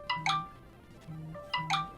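A phone ringtone going off mid-session, two bright bursts of repeating electronic chime tones a second apart, moderately loud, with no talking over it.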